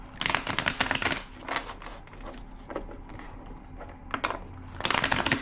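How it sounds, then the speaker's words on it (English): Cards are riffle-shuffled in quick fluttering bursts, with a quieter stretch between the shuffles and a final burst at the end. "2 more shuffles."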